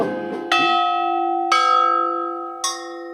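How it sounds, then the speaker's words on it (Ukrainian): A large memorial bell, the Chornobyl bell in Kyiv region, tolls three times at slow, even intervals, each deep strike ringing out with a long, sustained hum that fades between hits. "Чорнобильський дзвін."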